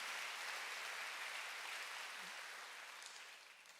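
Church congregation applauding during a Wednesday worship service, a steady wash of many hands clapping that fades slightly toward the end, fairly distant and even.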